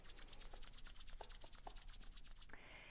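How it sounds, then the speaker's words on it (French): Hands rub briskly together to warm up, making a quiet, rhythmic swishing friction close to the mic that repeats steadily throughout. "Réchauffons nos mains ici."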